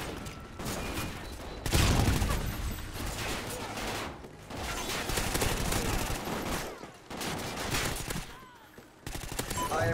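A salvo mortar fire strike in Call of Duty: Ghosts on the map Containment, loud and close: heavy rolling bursts of explosions and gunfire, broken by a few brief lulls before the barrage surges again.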